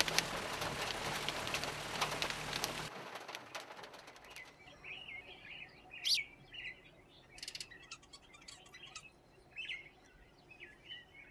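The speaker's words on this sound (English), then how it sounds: "The sandstorms that follow form a blanket over the desert, and then rain would fall for a few minutes." Brief rain shower in the Kalahari desert along the Auob River in Kgalagadi Transfrontier Park: a few seconds of dense, hissing rainfall, then quiet with scattered bird chirps and tweets, some near, others distant.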